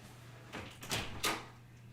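A room door is opened with a few brief clunks and a latch sound spread over about a second, fairly close and alone against a low steady hum, with no talk.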